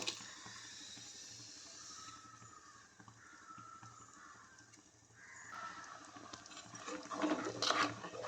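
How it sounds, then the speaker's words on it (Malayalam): Thick ground coconut paste pours and plops wetly into a pan of egg curry, a soft, close, continuous liquid slide that ends in a brief louder squelch, with no speech. "ഇനി നമ്മൾ അരച്ച് വെച്ചിട്ടുള്ള തേങ്ങ ഇതിലേക്ക് ഒഴിച്ചു കൊടുക്കാം"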